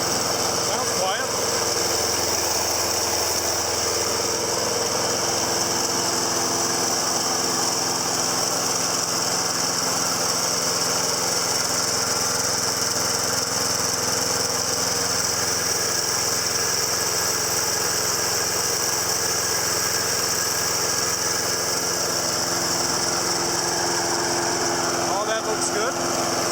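A Snapper Big Six Ninja self-propelled lawn mower engine runs steadily close by, a constant high-pitched motor drone with a little throttle and no breaks across the whole stretch.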